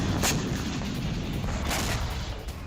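Heavy shelling and explosions rumble over central Tehran in a dense, continuous low roar, with two sharper bursts standing out near the start and again midway, no voices present.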